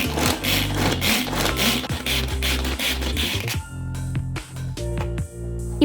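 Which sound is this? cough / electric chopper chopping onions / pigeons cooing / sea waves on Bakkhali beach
electric chopper chopping onions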